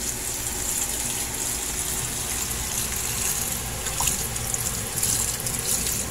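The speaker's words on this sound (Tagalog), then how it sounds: "Dito sa running water para malinis na malinis siya." Steady running tap water pours over freshly harvested lettuce being rinsed clean of mud, a continuous close gushing and splashing hiss that stays level throughout with no talking.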